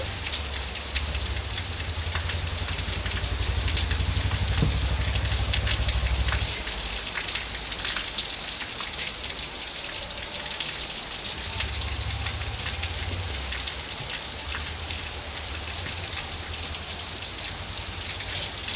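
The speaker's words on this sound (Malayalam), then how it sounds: "മഴയാണ്" Morning rain falls steadily at a house, a dense, even hiss that lasts throughout, with a deeper rumble swelling in and out underneath.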